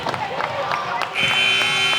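A high school basketball game's buzzer sounds at the end of the half, a sustained electronic tone starting midway and continuing under a commentator's voice and gym noise.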